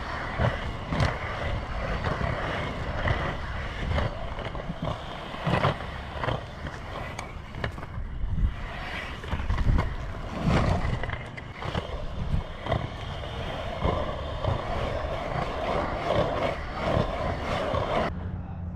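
Inline skates fitted with NN Dragon+ frames roll while cruising, giving a steady broadband wheel roar with wind noise throughout and brief louder scuffs, no clacking.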